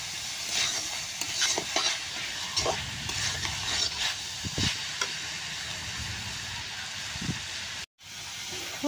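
Banana flower and lentils frying in a pan, stirred steadily, with a continuous close sizzle and hiss and occasional scraping knocks of the spoon, then a brief dropout near the end.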